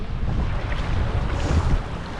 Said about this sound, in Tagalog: Kung saan-saan nanggagaling yung hangin.